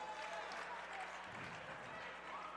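A morning crowd at a girls' high school basketball game in a gym gives steady, moderate applause, a continuous wash of clapping heard from a distance.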